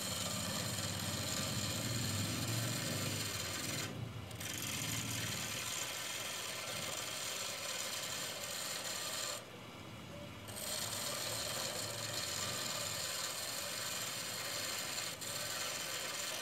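A wood lathe turns a wooden part for an acoustic guitar fretboard: a steady, close rasping hiss of cutting runs almost throughout, with two brief dips.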